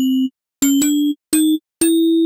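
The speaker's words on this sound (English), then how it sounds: "We're going to use the sine wave to help us tune our bell sound." A pure sine-wave tuning tone sounds alone, then alternates with a synthesized Omnisphere bell patch modeled on a toaster ding, struck four times with bright metallic attacks over a sustained pitch, slightly out of tune with the reference.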